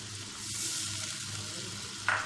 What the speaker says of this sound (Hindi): तो 10 मिनट हम इसको मसाले में भूनेंगे